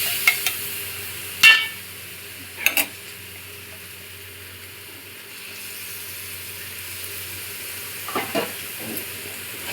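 Chicken sautéing in a pan with ground onion, ginger, tomato paste and chili powder, a steady low sizzle broken by a few sharp scrapes and stirring knocks, with no voices.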